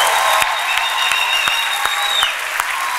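A church congregation applauds loudly, with dense, sustained clapping and some cheering from a large crowd indoors.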